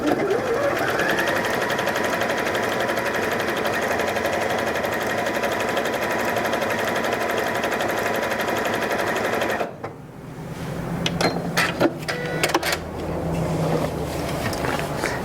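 A Janome 3160QDC sewing machine sewing a blanket stitch on stabilizer, a loud, steady, fast mechanical hum running for about ten seconds before stopping, followed by quieter handling clicks and rustles.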